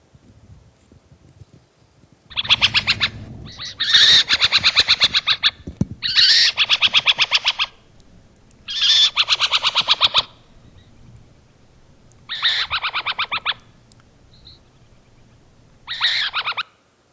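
Burrowing owls calling near their burrow: five harsh, rasping bursts, each one to two seconds long, separated by short pauses, fairly close and loud against a quiet background.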